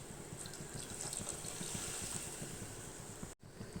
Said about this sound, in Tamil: அடுத்தது இந்த குழம்புக்கு தேவையான அளவுக்கு தண்ணி சேர்த்துக்கலாம்